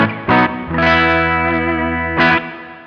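Electric guitar run through a legacy hall reverb on a Line 6 HX Stomp XL, with a few loud sustained chords and short stabs ringing out into a lingering, spacious tail.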